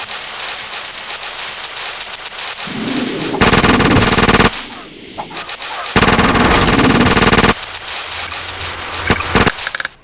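Rapid bursts of automatic gunfire from the video game Super Liam, loud and close, coming in two long stretches with brief gaps and scattered single shots between them.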